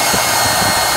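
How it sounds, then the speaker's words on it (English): A handheld hair dryer reheats a nail wrap, blowing with a loud, constant airy whoosh and motor whine. It is close and uninterrupted, with no speech. "then just reheat it with your hairdryer"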